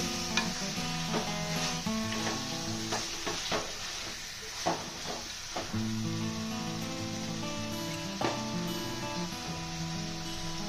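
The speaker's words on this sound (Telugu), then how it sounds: "నేను తీసుకున్న ఈ కడాయిలో ఫస్ట్ నేను చికెనే చేస్తున్నానండి." Chicken pieces fry in a clay kadai and are stirred repeatedly, a steady close sizzle broken by scraping, knocking spoon strokes at uneven intervals throughout, with no talking.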